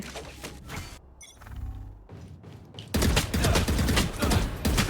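Rapid gunfire in Valorant, bursts of shots that build into a loud, sustained volley in the last couple of seconds, set in busy game ambience.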